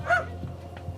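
A dog barks at a California house as game wardens arrive for a probation search, two short, close barks about a second apart with quieter whimpering between.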